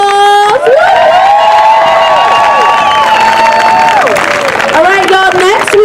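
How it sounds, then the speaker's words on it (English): Loud crowd applause and cheering at an outdoor Women's March rally, clapping mixed with shouts and whoops, sustained throughout at close range. "Give them another round of applause"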